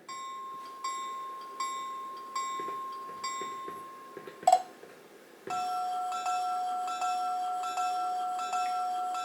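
A model train caboose's DCC sound decoder bell dings steadily at an even pace, pauses after a click, then resumes with a slightly different ringing tone.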